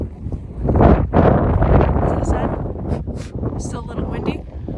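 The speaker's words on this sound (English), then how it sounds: "Still a little windy," Strong wind buffets the microphone outdoors on a hike among wild ponies, a loud continuous roaring rumble with gusts that swell and ease, and a voice is briefly audible beneath it.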